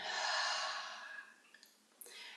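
A slow, breathy exhale during a guided breathing meditation, soft and close, tapering off and followed by a few faint small sounds.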